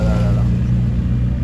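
An Audi RS6 rolls past on a Paris street, its heavy low engine rumble loud and close throughout the brief moment.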